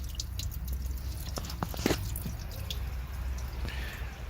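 Coolant drips from a split three-way heater hose on a 2007 Chrysler/Dodge 2.7L V6 that is overheating, a few soft, sharp drops and a wet squish standing out over a steady low engine-bay rumble, close and fairly quiet.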